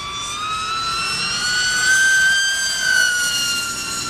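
TechOne FPV900 RC wing making a high-speed pass at full throttle: a loud, sustained high-pitched motor whine that holds steady, rises slightly and then eases, heard alone.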